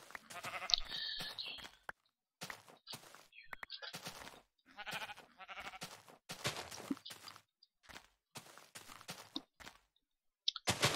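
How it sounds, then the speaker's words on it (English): Sheep bleating in the video game Minecraft, several short bleats in separate bursts with quiet gaps and some clicking between them. "Wow, there's lots of sheep here"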